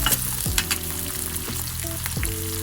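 Moong dal sambar ingredients fry in a pan with a close, crackling sizzle, while a few scraping strokes of stirring and a short metallic ring sound over it, with no talking.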